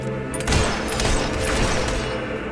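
Rapid gunfire rattles through a battle in Fable 3, a dense, continuous volley of overlapping shots and booms that stays loud throughout.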